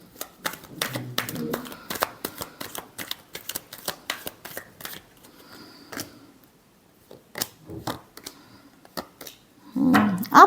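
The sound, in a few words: tarot cards being shuffled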